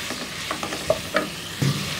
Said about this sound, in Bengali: হাই হিটে আমি রান্না করতে থাকবো, এভাবে নাড়তে থাকবো।